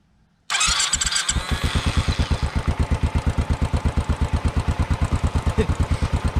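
An old-school motorcycle engine fires up abruptly and settles into a steady, close idle, its exhaust beats thumping in an even, rapid rhythm with a soft mechanical clatter.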